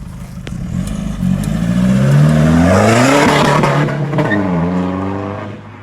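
A Volkswagen Golf 6 drives along with its engine rising and falling in pitch through the gears, a loud, close, continuous interior drone without speech.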